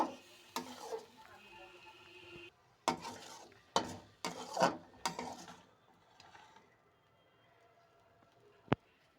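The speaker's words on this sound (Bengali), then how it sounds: "সামান্য একটু জল দিয়ে দেবো মশলাটাকে কষিয়ে নেব" Spice paste loosened with a little water is stirred and fried in a pan for Bengali prawn fritter kalia. A soft sizzle runs under several spoon scrapes and clinks that come in bursts, ending with one sharp tap.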